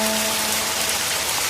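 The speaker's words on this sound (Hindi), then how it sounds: "आज तो बारिश ने जम के कहर ढाया है" Dense, heavy rain pours steadily, a loud hiss of drops pattering on surfaces, with a faint steady hum underneath at the start.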